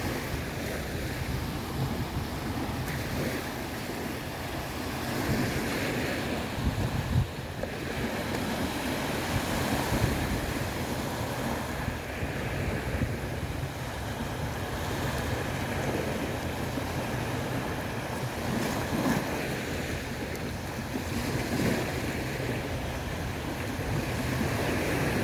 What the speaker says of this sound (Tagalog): At nandito pa rin tayo sa igid ng baybay. Sa dapi po ng dagat.